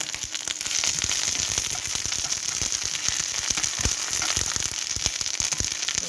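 Wild garlic frying in a hot pan gives off a loud, dense, continuous sizzle with rapid crackling pops throughout, close and steady with no voices.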